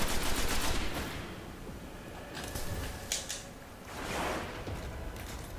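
Weapon fire in the video game Destiny, a dense, rapid burst at the start easing into a steady, noisy crackle of shots with a few sharper mechanical clicks, loud and close, with no talk over it.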